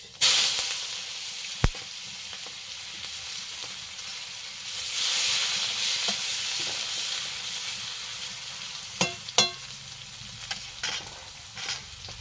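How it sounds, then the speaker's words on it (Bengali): Dried red chili, whole tempering spices and onion sizzle in hot oil for a Bengali prawn and Malabar spinach dish, a steady close hiss with a swell of frying mid-way and a few sharp spatula knocks against the pan. "তেলটা গরম হয়ে গিয়েছে এর মধ্যে দিয়ে দেবো ফোড়ন আর দিয়ে দেবো শুকনো লঙ্কা আর দিয়ে দেবো পেঁয়াজ"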